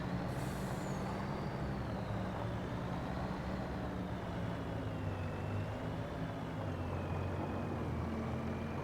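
A truck in the Farming Simulator 25 video game, on a Montana farm map, drives with a steady, loud engine drone and a gently wavering high whine, opening with a brief sharp air-brake hiss; no one speaks.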